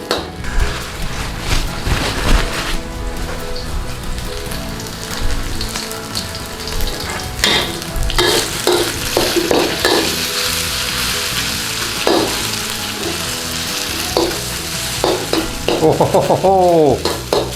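Beef stir-fried in hot oil for beef chow mein, a steady loud sizzle and crackle with scraping stirs and clattering tosses throughout, no talking.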